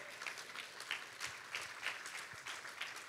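A church congregation claps, the sound coming as sparse, loosely rhythmic hand claps at a moderate distance rather than a full burst of applause, fairly quiet overall.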